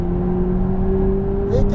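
Heard from inside, an M4 RS Trophy-R car's engine drones loud and close as it throttles through a corner on a race track, holding a steady tone before the pitch climbs as power returns at the end.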